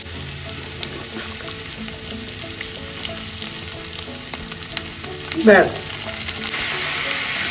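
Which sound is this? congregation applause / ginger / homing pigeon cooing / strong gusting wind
ginger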